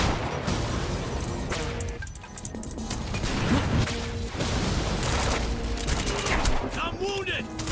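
Heavy sniper gunfire in a Quantum Break firefight, a dense continuous volley of shots and impacts that stays loud throughout, with a little speech mixed in.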